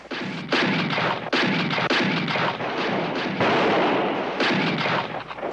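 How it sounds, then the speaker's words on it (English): Gunfire in a western cowboy show: a dense, loud barrage of overlapping shots and booming reports, continuous and close, with only brief gaps. "Getting pretty careless with those bullets, Joe."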